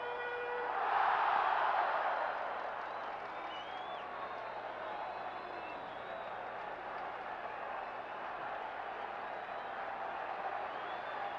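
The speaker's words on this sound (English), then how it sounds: "Now that home run by Dower, that's woke the crowd up too." Crowd at a 1979 World Series Game 7 baseball stadium between the Pirates and Orioles roaring after a home run, a broad swell of cheering that peaks early then settles into steady distant crowd noise.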